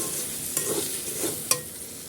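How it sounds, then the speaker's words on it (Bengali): Spice paste with salt, coriander, cumin, turmeric and chili powder fries in a pan while being stirred, a low steady sizzle broken by a few sharp spatula scrapes, no talking. "এবারে মশলাটাকে ভালো করে কষিয়ে নেব"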